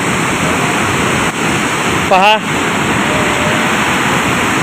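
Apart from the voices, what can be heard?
large waterfall roaring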